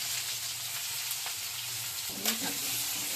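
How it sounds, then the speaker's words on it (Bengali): Chopped onions hit hot oil already holding three cardamom pods, cinnamon, cloves and a little cumin, giving a dense, steady sizzle with a brief stirring scrape near the end, close by and without talk. "এবার আমি কুচানো পেঁয়াজ দিয়ে দিচ্ছি।"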